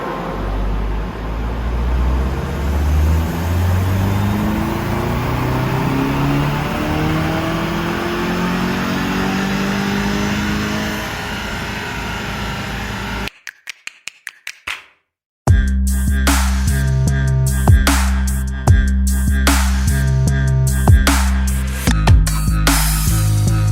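A VW Golf GTI MK7 engine runs under load during a power measurement, rising steadily and loudly through a long revving pull, cutting off into a few sharp pops, then a second harsh, close engine run follows.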